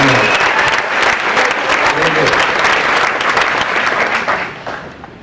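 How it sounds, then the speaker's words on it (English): An awards ceremony audience breaks into loud, dense applause that holds steady for several seconds, then tapers off toward the end. "How about a round of applause for Taylor?"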